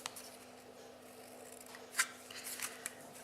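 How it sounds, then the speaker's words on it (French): Scissors cut the corners of paper for a handmade mini album, a few quiet, crisp snips spread apart, the sharpest one near the middle, close and alone over a faint background hum. "On coupe, on continue à couper les angles."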